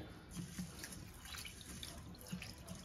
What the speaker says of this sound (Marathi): सगळ्यात पहिले हा तांदूळ आपण 2 ते 3 वेळेस स्वच्छ धुवून घेऊया।